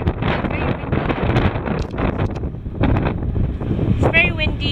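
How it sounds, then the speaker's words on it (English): Strong wind on a ferry near the island of Maraa buffets the microphone in loud, continuous low roaring gusts, with faint bursts of talk under the rumble. "It's very windy."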